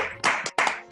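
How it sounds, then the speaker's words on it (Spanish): Short bursts of clapping from a small audience at a circus trainers' discussion forum, three loud claps spaced across a second, close and sharp. "Un aplauso para todos ustedes"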